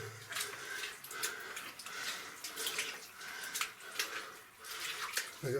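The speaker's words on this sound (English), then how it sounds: "The water's running into the mine." Water trickles and splashes into an old mine in Mexico, a faint, uneven flow with irregular drips and gurgles, close by and heard alone.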